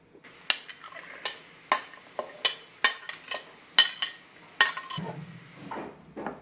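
Chopped bottle gourd pieces drop into a clay pot, giving a close series of about a dozen sharp knocks and clatters at an uneven rhythm, with no talk.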